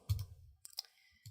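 Quiet mouse clicks at a computer while exporting a pattern in GIMP or Photoshop, a few small, close, dry ticks with near silence between them.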